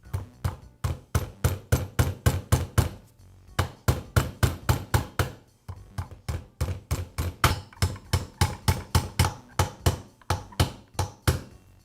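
Roll pins are driven into a Porter Cable roofing nailer's trigger valve with quick runs of sharp metallic hammer taps. The taps come close and steady, grouped in bursts with short pauses between them.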